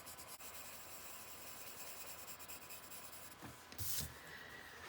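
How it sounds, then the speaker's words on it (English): A blender pencil rubs softly across paper while finishing a rose gold coloured-pencil drawing, a faint steady scratchy hiss with a slightly louder stroke near the end. "And grab my trusty blender pencil."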